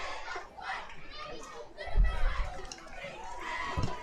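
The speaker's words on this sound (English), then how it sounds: "Large crowd here for Hopewell. Big student section." A large crowd with a big student section fills the stands at a high school football game on senior night, a steady roar of chatter and shouts with a few louder bursts.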